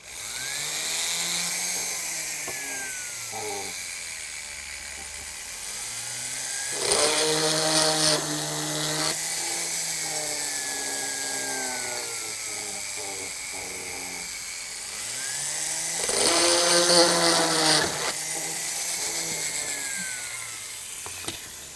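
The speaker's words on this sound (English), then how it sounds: "Anytime you're going metal to metal, you want to use some burr life on the drill bit." A power drill whines steadily, rising into two louder bursts of grinding as the bit bites through metal into metal, with no talking.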